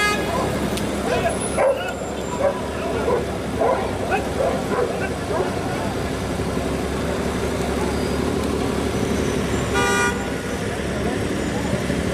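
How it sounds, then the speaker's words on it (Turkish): A pack of stray dogs barks and yips on a street in Şanlıurfa, repeated loud barks with whimpers, a passing car's horn toot and traffic in the background, with voices talking throughout. "Şanlıurfa'da sürü halinde gezen köpekler, vatandaşları tedirgin etmeye devam ediyor"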